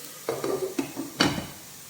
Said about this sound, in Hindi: बस थोड़ा सा ये जो शिमला मिर्च है ये थोड़ी सी हल्की सी पक जाए, बस इसको ढक दूँगी मैं